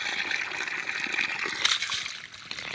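River water flows and trickles continuously with light splashing, a close, steady wash of sound in a mountain setting.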